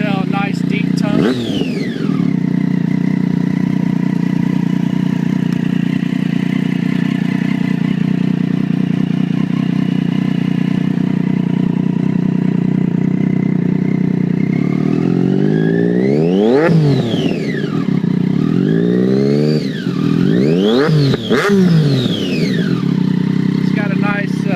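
A 2012 Triumph Daytona 675R with a Danmoto exhaust idles loudly and steadily up close, then gets several sharp throttle blips that rise and fall in pitch near the end.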